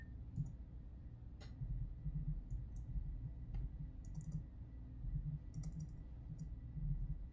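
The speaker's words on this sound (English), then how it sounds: "I suck at typing" Quiet, irregular clicking of keys on a computer keyboard, a few scattered taps over a low steady hum, with no voices.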